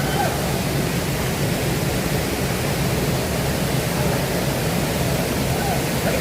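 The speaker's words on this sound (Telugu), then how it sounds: "ఇదేనా ఫాల్స్? మెయిన్ ఫాల్స్ ఇదేనా?" Hogenakkal waterfall roaring as a steady, dense broadband rush of falling water, loud and continuous throughout with no breaks or talking.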